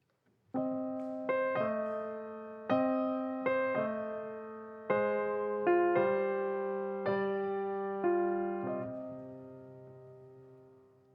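Piano plays a slow line of single notes in two voices, a melody over a simple bass, each pair struck together and left ringing, fading at the end.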